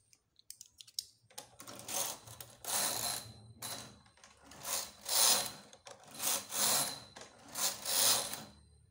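A cable knitting machine carriage makes about half a dozen rhythmic rasping, sliding passes as it knits stitches, each sweep a swelling mechanical scrape with a faint ratcheting click, close and fairly quiet.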